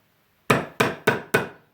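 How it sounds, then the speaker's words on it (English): Four evenly spaced, sharp metallic hammer taps on a part of a Kawasaki Vulcan VN1500 motorcycle fuel cut-off valve, each ringing briefly and decaying, close and loud against an otherwise quiet background. "We've even got a proper hammer."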